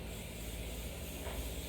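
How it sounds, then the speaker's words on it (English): Cooking spray hisses steadily from a can onto a Copper Chef pan, a close, continuous spray lasting the whole moment with no talking. "I'm going to spray it down."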